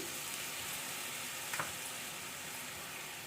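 Carrot halwa cooking in a pan as a cup of pure buffalo milk is poured in and stirred, giving a steady soft sizzle and bubbling with a brief scrape of the spoon midway.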